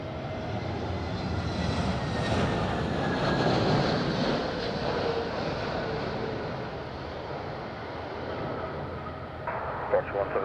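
An aircraft engine drones steadily at Madeira Island Airport, a broad continuous roar that holds level throughout, with radio talk over it.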